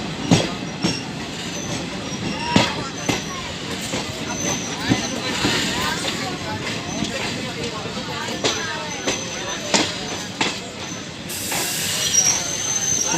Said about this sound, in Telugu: ఇదిగోండి రైల్వే స్టేషన్.